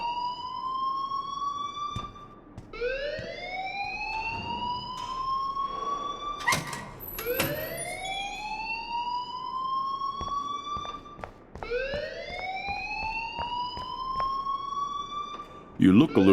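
Wailing alarm in the game Life Is Strange, a repeated rising siren tone that sweeps up in long cycles and sounds loud and continuous, with a brief clatter midway and a voice cutting in at the very end.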